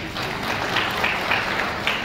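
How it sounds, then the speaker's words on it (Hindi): Steady applause from an audience at a film music launch in Lahore, a dense wash of clapping lasting about two seconds with no clear pauses. "सबसे पहले तो नेहा के लिए तालियां होनी चाहिए।"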